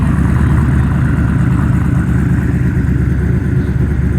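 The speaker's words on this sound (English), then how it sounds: "This car sounds really nice." A Dodge Charger muscle car engine rumbles steadily at close range, a deep continuous idle with no talk over it.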